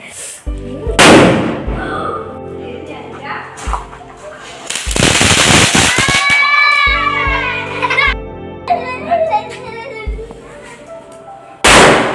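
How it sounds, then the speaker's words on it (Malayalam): Firecrackers, palm-leaf crackers and gundu bombs, set off outdoors during Eid celebrations, burst in several loud sharp bangs spread across the clip, with children's voices and crackling between the blasts. "പടക്കം പൊട്ടിക്കാനായിട്ടാണ് നിൽക്കുന്നത് അപ്പോൾ ഓലപ്പടക്കം പിന്നെ ഗുണ്ട് അങ്ങനെ കുറച്ച് പടക്കങ്ങളൊക്കെ ഞങ്ങൾ വാങ്ങിയിട്ടുണ്ടായിരുന്നു"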